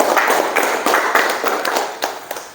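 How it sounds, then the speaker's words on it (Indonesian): A small classroom group claps for a presenting student group, a quick run of close, fairly loud hand claps in a rough rhythm that tapers off near the end. "Silakan tepuk tangan untuk kelompok 4"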